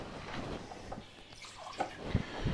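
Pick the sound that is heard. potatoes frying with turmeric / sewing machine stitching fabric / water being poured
water being poured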